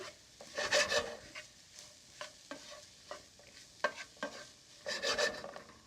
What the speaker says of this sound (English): mix that around in your pan